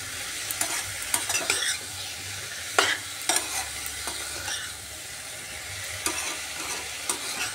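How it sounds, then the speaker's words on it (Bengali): Ash gourd stir-fried with spices in a hot pan, giving a steady sizzle broken by repeated spatula scrapes and clacks against the pan, close and alone. "এবার সবজিটাকে ভালো করে মশলার সাথে কষিয়ে নিচ্ছি"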